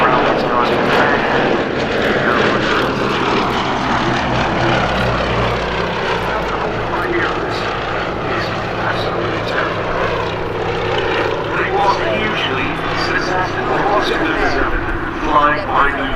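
Westland Lysander propeller aircraft flying at the Duxford Battle of Britain airshow, a steady loud engine drone sustained throughout with a slowly shifting pitch, while someone narrates over it.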